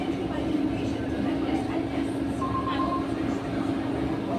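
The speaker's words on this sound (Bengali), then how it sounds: "গ্রিন মেট্রো সেটা এই যে মেট্রোর ভেতরে চেপে আছি" Steady low rumble and hum inside a moving Green Line metro train near Saktigarh station, with a constant drone throughout and a brief tonal whine midway, no clear talk.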